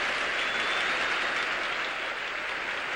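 A live audience applauding Olga Korbut's gymnastics dismount at a 1973 Soviet gymnastics display in Houston, a dense, sustained wash of clapping from a large crowd that holds steady throughout.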